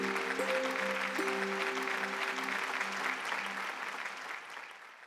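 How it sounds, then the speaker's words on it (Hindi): An audience bursts into steady applause, with sustained tonal music underneath, before the clapping fades out. "तो आप लोगों के लिए तालियां।"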